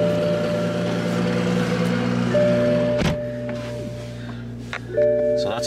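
Startup sequence of a manual 2023 Toyota Supra, with a steady electronic hum and tones, a sharp click at about three seconds, then further chimes and mechanical clicks near the end, heard inside the cabin.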